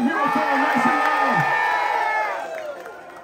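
Live metal concert crowd in Orlando, Florida cheering and whooping loudly between songs, a dense roar of voices that fades over the last second.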